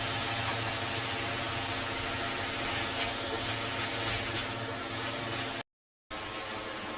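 Ripe tomatoes sautéing in a pan for a quick tomato curry give off a steady, close sizzling hiss that holds even throughout, then cuts out briefly near the end before resuming.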